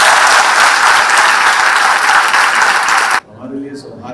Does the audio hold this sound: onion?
no